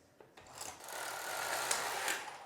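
The lock carriage of a Passap Duomatic 80 knitting machine slides across the needle bed in one pass, making a steady close rasping, whirring rub for about two seconds.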